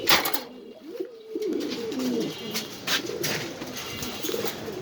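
Pigeons at a pigeon farm in Mirpur coo in low, rolling throaty phrases, several birds overlapping close by, with sharper flutters and clicks scattered throughout.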